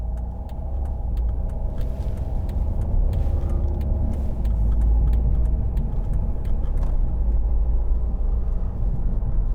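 A 2015 Volvo V40 Cross Country D2 diesel on a test drive, heard from inside: a steady low engine and road rumble with faint rattles and ticks, continuous and fairly loud, with no talk.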